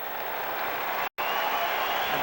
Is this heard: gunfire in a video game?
no